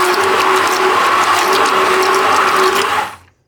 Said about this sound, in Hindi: आप इसको जो ग्राइंडर का जग होता है उसमें डाल के हल्का सा बस चक्कर लगवा लें।